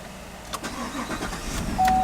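A 2014-2018 GMC Sierra or Chevrolet Silverado pickup engine cranks and catches, rising to a steady running hum over about two seconds, with a brief electronic beep near the end.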